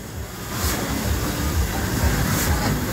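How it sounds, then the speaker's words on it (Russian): Steam locomotive of a Santa Claus train in Perm running past, a steady rumbling wagon roll with faint rail clatter at moderate distance, continuous throughout. "Паровоз на самом деле."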